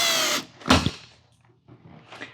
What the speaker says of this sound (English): Run the screw into the plug